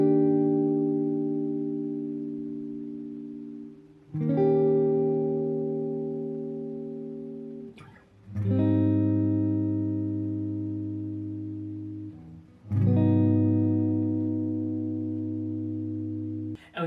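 An acoustic guitar strums the verse chords of a song, four slow ringing chords each left to sustain and fade for about four seconds, played alone and close.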